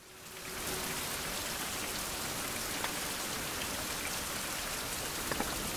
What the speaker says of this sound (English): I wonder how long it's gonna rain.